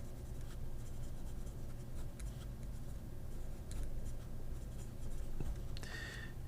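An Asvine V126 fountain pen with a steel 1.1 stub nib scratches across paper in soft, close strokes, with a few light ticks and a brief squeak near the end.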